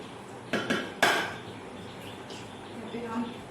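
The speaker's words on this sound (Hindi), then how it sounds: "यहाँ पे हम 3 अंडे डालेंगे।" Eggs cracked against the rim of a mixing bowl for homemade birthday cake batter, two sharp close taps around the one-second mark followed by quieter kitchen handling.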